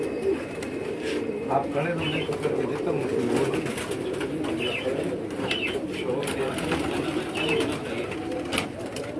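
Striped pigeons coo steadily in low, throaty rolling calls close by, with people talking over and among the birds.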